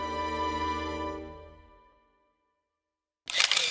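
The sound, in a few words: camera shutter sound effect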